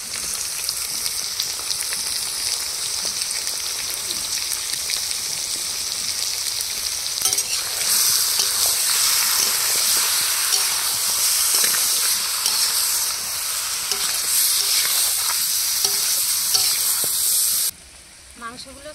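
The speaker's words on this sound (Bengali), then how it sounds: "পেঁয়াজ রসুন কষিয়ে নিয়েছি, এবার মাংসগুলো দিয়ে দেবো।" Chicken pieces frying in a pan with onion and garlic for a spicy chicken curry, a loud continuous hiss and sizzle with stirring, cutting off abruptly near the end.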